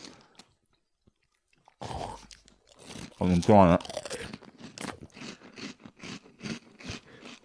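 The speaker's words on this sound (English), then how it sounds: "Do you like that crunch" Food is crunched and chewed loudly up close at a meal-deal tasting, a burst of crunching bites followed by a rhythmic series of chewing crackles, with a brief spoken remark among them.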